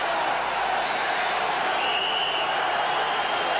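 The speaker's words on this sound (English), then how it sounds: "And the crowd really comes alive." Boxing arena crowd at a Sugar Ray Leonard fight, a dense continuous roar of cheering, loud and steady with no breaks.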